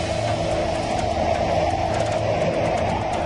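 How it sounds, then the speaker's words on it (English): A continuous low roar of Hurricane Andrew's strong wind outside, steady and heavy throughout. "You can start to hear the roar outside."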